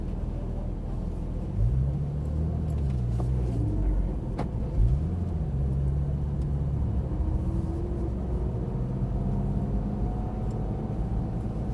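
A Porsche GT3 race car pulls away in first gear toward a racetrack, its engine rising in two rough revving sweeps before settling into a steadier drone, heard from inside the car with no talking.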